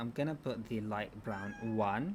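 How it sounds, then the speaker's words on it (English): A domestic cat meows a few times in a home setting, its rising calls close and mixed in with a person talking over them. "And that's my cat meowing"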